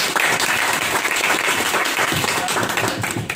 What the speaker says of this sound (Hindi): इनके चेतन के लिए भी एक बार जोरदार ताली बजा दो।